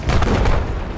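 A tank in a video game comes under fire: a single loud, low boom of a hit or shot lands up close and decays into a rumble.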